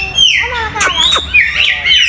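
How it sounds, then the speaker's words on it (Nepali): Macaws at a zoo give loud, harsh, rising squawks close by, several calls in quick succession over faint background noise. "यो चाहिँ मकाउ भन्ने चरा हो"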